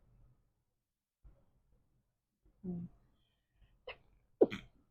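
A person sneezes close up: soft breathy sniffs build to a sharp, loud sneeze near the end, with faint vocal sounds between, in an otherwise quiet room.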